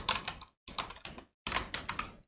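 Rapid keystrokes on a computer keyboard come in three close, clattering bursts separated by short silent pauses, with no talking.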